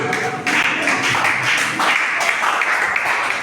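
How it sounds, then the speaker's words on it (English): Members at a union congress of the NUJ Anambra State Council applaud in a dense, continuous wash of clapping that holds at an even level throughout, with no clear voices. "Members of our Federated Chapel, please clap for them"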